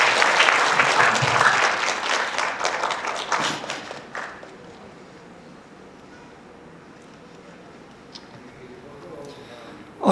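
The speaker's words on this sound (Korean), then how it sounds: "박수로 한번 맞아주십시오." An audience at a lecture on current affairs applauds to welcome the speaker, a dense burst of clapping that fades after about four seconds into quiet room tone.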